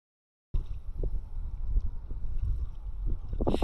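Small rowboat rowed back across a windy anchorage off the Isle of Mull, with gusty wind noise over the microphone, water slapping and a few soft knocks of the oars after a brief silence.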